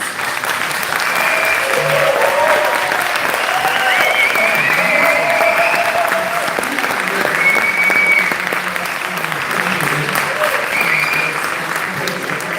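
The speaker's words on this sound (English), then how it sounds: "So can we give Charles a round of applause" Sustained applause from a crowd, steady clapping that fills the whole stretch, with occasional cheers and voices mixed in.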